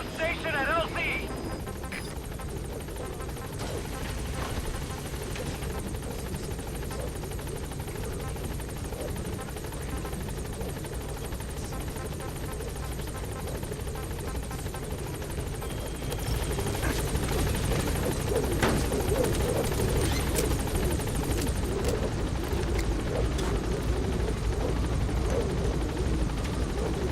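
Helicopter in Metal Gear Solid V: The Phantom Pain flying with a steady rotor drone and whine that swells louder in the second half, with radio-style voices talking over it.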